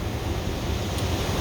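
Waves on a beach on the Amalfi Coast in Italy, a continuous broadband wash of surf with some wind rumble, fairly loud and close, with no talking.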